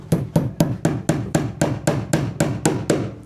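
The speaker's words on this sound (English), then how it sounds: "And then I can hammer these up home." Pipe clips hammered onto joists during copper pipe installation: about twelve sharp, evenly spaced hammer blows at a steady quick rhythm, close and loud, with no talking.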